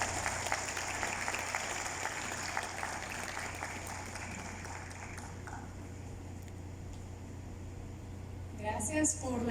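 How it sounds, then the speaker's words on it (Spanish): An audience applauds a speaker introduced for a talk on sustainable cities and climate change, a dense patter of clapping that fades out before a voice begins speaking at the end. "Uma salva de palmas, por favor."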